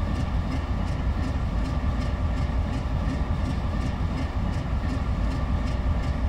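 An AC4400 diesel locomotive sits at low idle in Train Simulator 2018, giving a steady, loud, rumbling engine drone with a faint rhythmic ticking above it, unbroken throughout.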